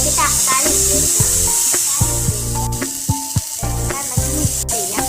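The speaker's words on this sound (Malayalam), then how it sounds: "ഇതൊന്ന് നല്ലോണം ഇളക്കി കൊടുക്കാം" Onion and tomato frying in a pan while being stirred, a loud continuous sizzle with scraping stir strokes, under ongoing speech throughout.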